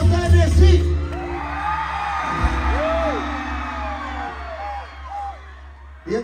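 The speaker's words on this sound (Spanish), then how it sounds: "escuche fuerte el grito Tennessee." A concert crowd at a show in Tennessee shouts, whoops and cheers loudly and close up, with voices calling out over the roar.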